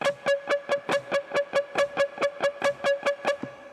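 Rapid, even alternate picking on a guitar string, about eighteen short plucks in steady rhythm, each note bright but quickly cut off.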